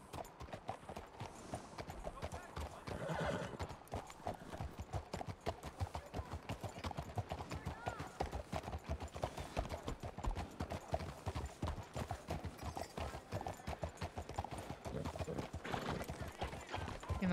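Horses clip-clop steadily in a western video game, a dense run of hoofbeats filling the whole stretch with an occasional whinny, close and loud, and no talk over them.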